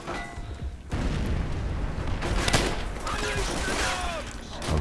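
Gunfire in the World War II shooter World at War, a dense fusillade of rifle and machine-gun rounds with distant booms, running continuously across the clip at moderate loudness.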